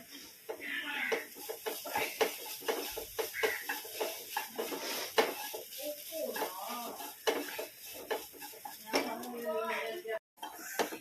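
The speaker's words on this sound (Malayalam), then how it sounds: "അല്പം മുളക് പൊടി, ഒന്ന് മിക്സ് ചെയ്ത് കൊടുക്കാം." A spoon scrapes and clinks in a pan while chili powder is mixed into a vegetable thoran, soft irregular stirring taps and faint sizzle running underneath a person talking throughout.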